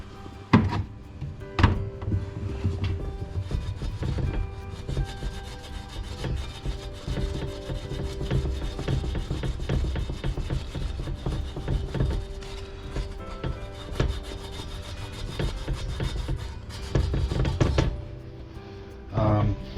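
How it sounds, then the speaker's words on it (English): Old gasket material being scraped off an air compressor part during repair, a steady, close rasping and rubbing that runs on without a break, with brief knocks and a few pauses. "just cleaning up the old gasket off of here"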